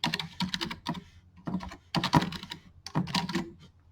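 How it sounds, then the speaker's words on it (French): Quick bursts of typing on a computer keyboard while entering an email address, with close, crisp key clatter coming in uneven clusters separated by short pauses. "Voilà, je rentre mon email."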